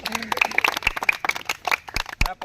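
Scattered clapping from a small audience at a village balloon-popping game, quick uneven claps mixed with a voice talking over them.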